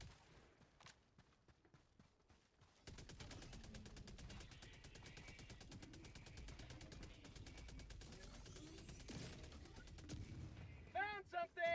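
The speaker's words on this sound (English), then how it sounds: "There's my MG turret doing exactly what I said. It's distracting this harvester from killing me" A machine gun turret in Helldivers 2 fires long, rapid, evenly spaced bursts that run steadily for several seconds, with a voice speaking briefly near the end.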